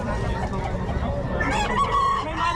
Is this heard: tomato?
no